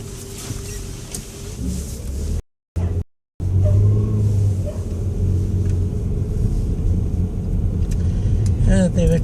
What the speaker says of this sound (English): The car is coming up from behind, and now we can go.